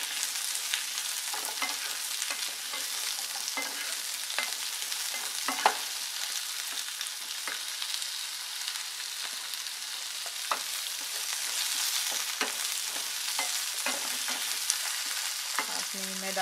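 Green, red and yellow bell peppers fry in a pan for an Indian chilli chicken, giving a steady, close sizzle throughout with occasional light clicks from stirring.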